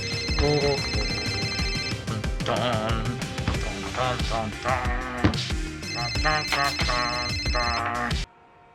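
A telephone bell rings in bursts through a busy household scene, partly masked by overlapping voices and music. The ringing continues until the sound cuts off abruptly near the end.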